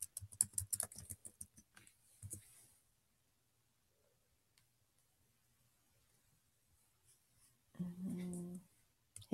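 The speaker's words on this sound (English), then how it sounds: "Then you can type in Screencastify." Rapid light keystrokes on a computer keyboard for the first couple of seconds, then near silence, with a brief voice-like murmur near the end; quiet overall.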